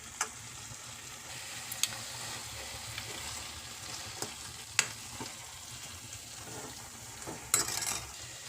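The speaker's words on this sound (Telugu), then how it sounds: "వేసుకొని బాగా మిక్స్ చేసుకుందాం మసాలాని" Chicken sizzling in a pan as masala is stirred into the curry, a soft steady fry with scattered clinks and scrapes of a spoon against the pan, close but quiet.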